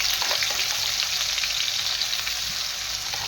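Cumin sizzles and fries steadily in a pan as gravy goes in for matar paneer, a loud, dense, continuous crackle with no talking.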